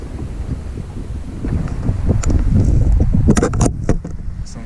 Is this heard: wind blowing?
yes